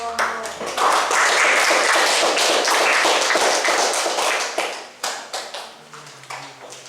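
Audience applause in an Indonesian classroom after a group presentation: loud, dense clapping that swells quickly, holds steady for several seconds, then tapers off into scattered individual claps.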